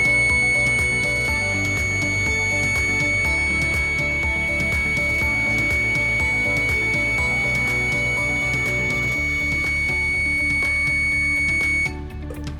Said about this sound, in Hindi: सेफॉन पावर प्यूरिफायर का ये अलार्म बज उठा